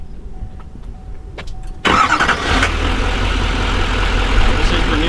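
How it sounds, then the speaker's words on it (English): A 2015 GMC Denali HD with a Duramax diesel engine cranks and starts abruptly after a couple of quiet seconds, then settles into a steady, low, rumbling idle heard close by. "I'm going to fire it up so you can actually hear what the diesel truck itself sounds like."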